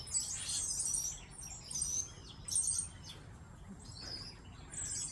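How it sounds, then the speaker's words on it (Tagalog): Many birds chirp and tweet outdoors in a dense, overlapping chorus of high calls in repeated bursts, fairly close, over a low steady background rumble. "Ang daming ibon, no?"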